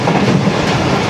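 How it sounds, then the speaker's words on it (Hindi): Karakoram Express train rolling through Nawabshah railway station without stopping, a steady loud rumble of wheels and carriages with faint rhythmic clatter throughout, no voices. "और ट्रेन हमारी नवाबशाह रेलवे स्टेशन को पास थ्रो करने जा रही है।"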